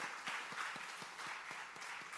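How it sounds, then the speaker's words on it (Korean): Rhythmic group clapping from a church congregation during a Korean Sunday morning worship service, faint and distant with steady, evenly spaced beats in unison. "우리 옆에 분, 박수 한번 치십시다."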